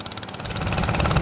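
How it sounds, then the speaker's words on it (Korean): A motorboat engine roars steadily on a river in Myanmar, a continuous mid-pitched drone that builds slightly in loudness, close and alone without talk. "모터보트는 더욱 굉음을 낸다."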